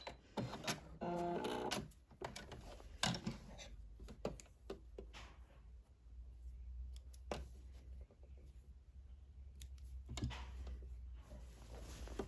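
A sewing machine back-stitches the fabric of a scrub top in short, loud mechanical bursts with pauses and clicks between them, heard close up with no talking.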